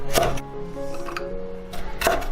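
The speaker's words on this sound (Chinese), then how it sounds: "红椒切成圈" A knife cuts a red pepper into rings on a board, with two sharp distinct chops at the start and end and quieter handling sounds in between, close and clear.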